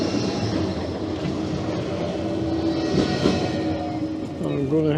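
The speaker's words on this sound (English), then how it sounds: "So we've got another tram coming this way now." A tram rumbles steadily along a seaside street at Bispham, a continuous loud rolling and wheel noise running the whole time, with a faint squeal rising near the end.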